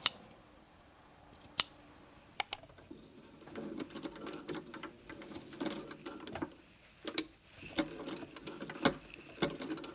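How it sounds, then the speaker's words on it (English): Scissors snip into the seam allowances of a sewn skirt, giving sharp, irregular clicks over a soft rustle of fabric, close up and with no talk. "You can clip into the seam allowances of the skirt to release tension."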